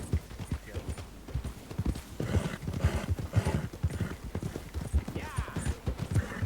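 In Red Dead Redemption 2, a horse's hooves clip-clop in a quick, steady rhythm close by, with a whinny breaking through partway, while voices talk over the hoofbeats.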